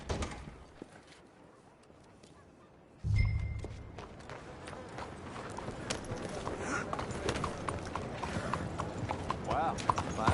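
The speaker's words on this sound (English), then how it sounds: "Wow, fine horse there." Steady clip-clopping of horse hooves at a trot in the video game Red Dead Redemption 2, with rumbling ambience and faint voices underneath, following a brief quieter lead-in.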